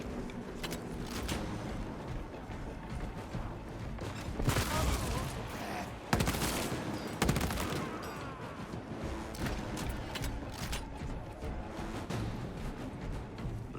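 Gunfire volleys ring out in Space Marine 2, a sci-fi shooter, as scattered close blasts and thumps over a continuous noisy battle din, with heavier bursts in the middle.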